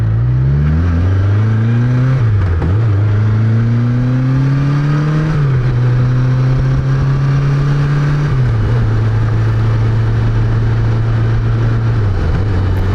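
BMW K1200LT touring motorcycle engine at light throttle, a loud steady drone whose pitch climbs and drops through several gear changes, with strong wind rush throughout and no talking.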